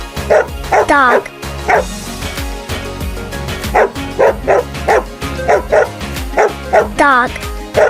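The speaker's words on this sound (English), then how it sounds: "Dog." A dog barks repeatedly in loud, close bursts, mixing sharp yips with deeper bow-wows and whimpering tones in an uneven rhythm, with a brief spoken word.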